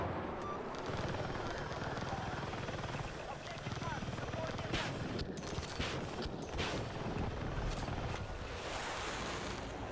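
An attack helicopter in the video game Battlefield 6 drones and whirs continuously at steady loudness, with bursts of gunfire and impacts layered over it in the later seconds and someone talking over the action.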